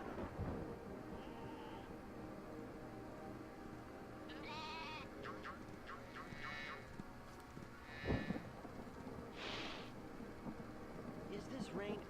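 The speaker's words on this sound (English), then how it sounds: "Is this rain ever gonna stop?" Rain and thunder in the game Spyro 2: Ripto's Rage, with a steady wash of rain and a deep rumble of thunder near the middle, mixed with character voices and bleat-like cries.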